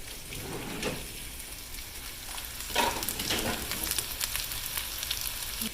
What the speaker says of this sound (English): I'm going to bring it to a boil and then I'll turn it all the way down and simmer it.